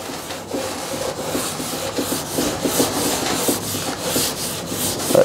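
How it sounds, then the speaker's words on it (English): Hand sanding of a surface in a DIY workshop: light, rhythmic back-and-forth rasping strokes, close and steady, with no talking. "just kind of sand it away, if you will"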